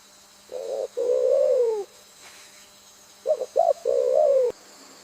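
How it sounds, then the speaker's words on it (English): Victoria crowned pigeon giving two spells of deep, resonant cooing, a longer booming phrase followed after a pause by short pulsed notes running into another drawn-out coo, close and clear over a quiet background. "Despite its majestic appearance, the Victoria crowned pigeon is actually very gentle"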